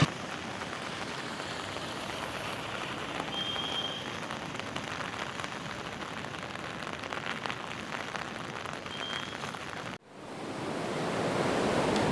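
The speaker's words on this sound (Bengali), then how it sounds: "তো চলুন সমুদ্রের দৃশ্যটা উপভোগ করা যাক।" Sea surf rolling in at Puri beach during rain, a dense continuous wash of waves and rainfall, broad and steady, without voices and ending with a brief cut.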